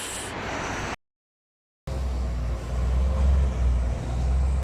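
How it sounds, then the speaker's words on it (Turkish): A city bus in Beşiktaş, Istanbul, arriving. Its low engine rumble and road noise swell slightly as it draws near, broken by a brief moment of total silence, with no voices. "Geliyor gene Beşiktaş'ın bütün yükünü çeken otobüs."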